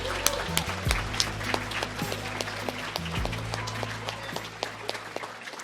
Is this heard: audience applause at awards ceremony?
yes